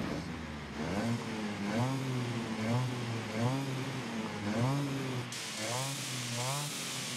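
Slow car engine in Forza Horizon 5 droning with a thin, buzzy whine like a weed whacker, revving up and down in repeated waves, loud and steady with no talk.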